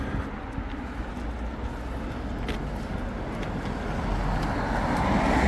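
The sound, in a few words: traffic on a busy main road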